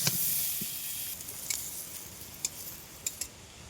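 Unripe jackfruit pieces frying in hot oil in a pan give a steady, soft sizzling hiss, broken by a few sharp clinks of a utensil against the pan near the end.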